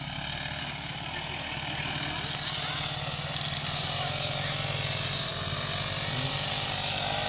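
Grass cutter engine running steadily while cutting grass, a loud continuous buzzing drone close by with a constant pitch throughout.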